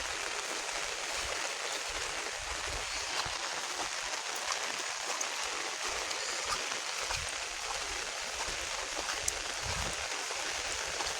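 Steady monsoon rain falls near a cashew tree holding bird nests, a dense, even hiss of drops that continues unbroken for the whole stretch with no voices.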